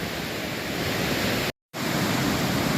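Waterfall at Ricketts Glen State Park heard from the top of the falls, a loud, steady broadband rush of water close by, briefly cut by a short gap of silence.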